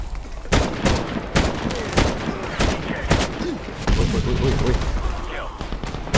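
Gunfire in the Medal of Honor video game, repeated sharp shots and bursts over a busy battle background, with a voice talking over the action.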